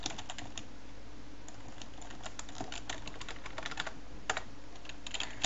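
Rapid, uneven keystrokes clatter on a computer keyboard, fairly faint and close, in quick clusters with short pauses and no speech.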